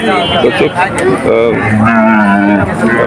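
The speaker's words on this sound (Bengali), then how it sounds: "এই এক জোড়া সুন্দর বাছুর, জার্সি জাতের বাছুর" A pair of Jersey calves moo loudly at a village cattle market, several drawn-out bellows in quick succession, close by, with crowd noise around them.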